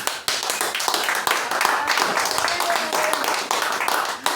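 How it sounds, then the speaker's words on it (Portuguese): A church congregation bursts into sustained clapping after a sermon on Galatians, dense overlapping handclaps filling the room at steady loudness, with a few voices calling out within the applause. "Todos podem aplaudir a Cristo aqui, irmão."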